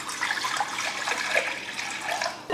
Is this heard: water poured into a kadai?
yes